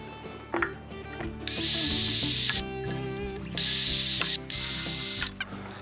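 A power drill whirs in three sustained bursts of a second or so each, pre-drilling screw holes for a Trex rod rail install, separated by brief pauses and small clicks, loud and close.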